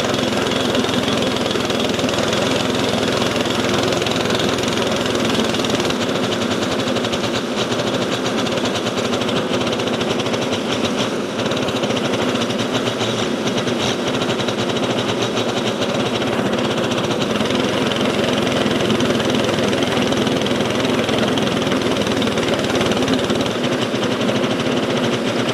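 A petrol-powered weed and moss brush running continuously, a steady buzzing engine with a rough, scraping edge, close and loud throughout with no talking.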